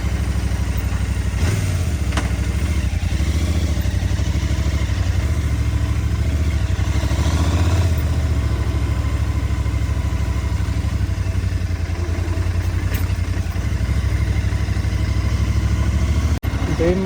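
A GT Twin 650 motorcycle engine runs steadily throughout, a continuous low rumble close by with faint clatter and a brief transient near the end, with no speech over it.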